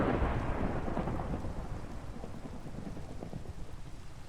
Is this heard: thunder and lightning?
yes